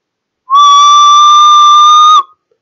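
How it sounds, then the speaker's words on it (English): A second blast on a hand-blown whistle in a PIC16F877A sound detector test: one loud, sustained piercing note lasting under two seconds, clean and alone, with a slight pitch bend as it ends. "See, again the whistle is detected."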